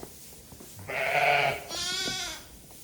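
Newborn premature lambs bleat in a lambing barn, two close, wavering cries one after another, fairly faint and alone with no talk.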